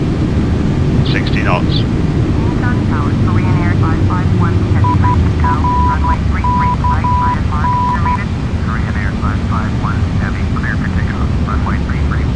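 In Flight Simulator X, an A330 airliner's jet engines roar loudly and steadily in reverse thrust after landing, with voices talking over the rumble throughout.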